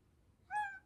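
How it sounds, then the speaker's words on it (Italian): A cat gives a single short meow near the end, soft and fairly close, after a moment of near silence. "E lì c'è il gatto."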